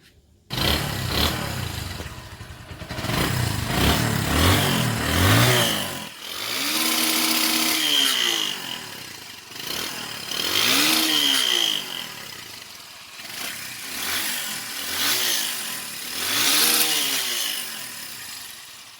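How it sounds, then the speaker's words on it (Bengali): An old motorcycle engine idles and is revved repeatedly, rising and falling in loud, rough waves close by, after work on its spark plug and fuel consumption; no one speaks. "সাউন্ডটা কতটা স্মুথ এই বাইকটার।"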